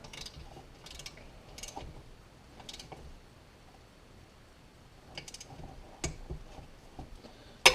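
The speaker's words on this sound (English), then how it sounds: "Use my torque wrench into the head flexes." A torque wrench clicks and ratchets while tightening the valve cover bolts on a Briggs and Stratton engine, giving scattered sharp mechanical ticks close by with quiet pauses between them.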